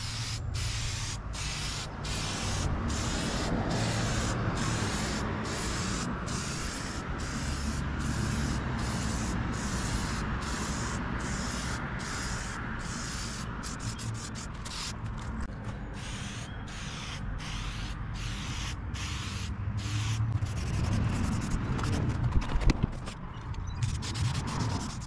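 Rapid hissing bursts from a spray paint can laying a light mist coat onto a John Deere tractor seat, short repeated sprays in a steady rhythm, close and fairly loud, with no talking.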